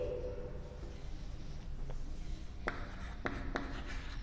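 A pen writes by hand during a maths lesson, making soft scratching strokes with a few sharper taps, quiet and close.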